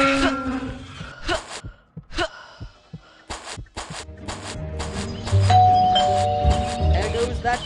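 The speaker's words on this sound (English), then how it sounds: "There goes that stupid bell again." A doorbell rings inside the video game Scary Teacher 3D, its chime standing out among clipped game sound effects and character vocalizations, followed by a busier stretch of layered game audio and music.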